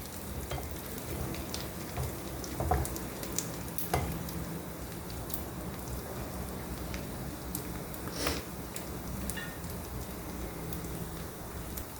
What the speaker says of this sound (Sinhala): හොඳට බැදෙන්න තියෙනවා.